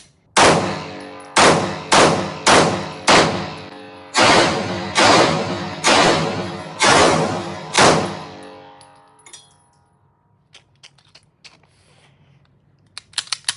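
A P211 pistol fires about ten sharp, close gunshots in a quick but uneven string, emptying a magazine, followed by near silence and a few faint metallic clicks.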